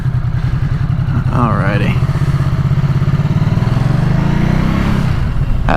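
A 2018 Ducati SuperSport motorcycle engine runs loud and close with a throbbing, pulsing idle that rises slightly in pitch, while someone speaks briefly over it.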